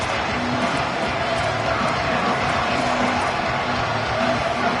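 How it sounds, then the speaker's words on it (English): Loud stadium crowd noise fills a college football game, a dense, continuous roar of many voices that holds steady and deafening throughout. "Man, this crowd really affecting the football game."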